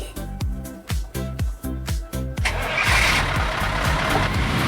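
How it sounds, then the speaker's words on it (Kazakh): A truck engine in a children's cartoon cranks with a series of rhythmic chugging bursts, then catches and settles into a loud, steady rumbling idle. "Жүк көлігі."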